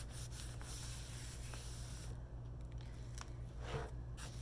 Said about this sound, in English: Now I'm just gonna rub it all down.